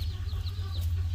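A Golden hen clucks in short, soft chirps over a steady low hum, a few quick calls within about a second on a farm.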